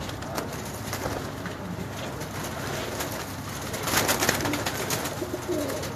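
Pigeons coo repeatedly nearby over an outdoor background, soft throaty calls overlapping, growing a bit louder toward the end.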